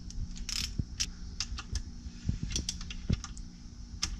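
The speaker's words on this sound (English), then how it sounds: "we're going to go ahead and tighten down the connecting rod bolts" Ratchet and 1/2-inch socket snugging connecting rod bolts during an engine rebuild on an Agricat mini dozer, giving a series of short, close metallic clicks and ticks spread irregularly over a low background hum.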